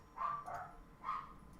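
Dogs inside a home on a busy street let out two short rounds of high, yappy barking, the second a bit softer, heard alone without any voices.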